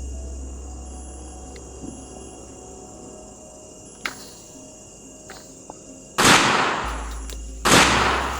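Firecrackers going off outdoors at night: two loud, sharp bursts with crackling tails late in the clip, plus a few fainter distant pops, over steady insect and cricket chirring.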